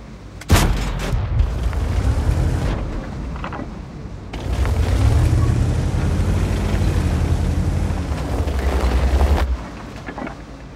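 A Ru 251 light tank's gun fires in a tank video game: a sharp, loud cannon crack opens, then deep booming blasts and a rumbling engine roll on, with no talk.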